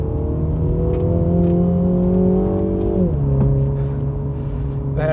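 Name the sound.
Mini JCW GP3 engine revving after paddle downshift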